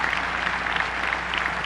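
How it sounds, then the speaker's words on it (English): Dense, steady clapping from a large audience fills the whole moment, loud and continuous without pauses. "give him a round of applause"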